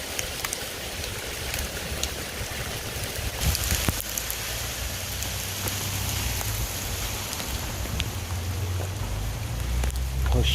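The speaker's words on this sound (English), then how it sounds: "Oh, look, it's hailing." Hail falls outside on a cold morning, a dense, steady patter of hard impacts with sharp individual clicks, close and fairly loud, growing busier partway through, with a low rumble of wind handling noise underneath and no speech.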